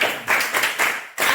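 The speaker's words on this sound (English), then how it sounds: "Let's clap for her." A small group of students claps in a classroom in quick bursts, four or five short rounds of applause close by with brief gaps between them.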